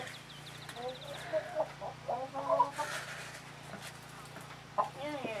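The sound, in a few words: chicken clucking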